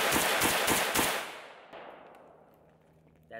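A Zastava M90 rifle fires a quick string of about five sharp, loud shots outdoors, followed by a long fading echo and a faint click at the end.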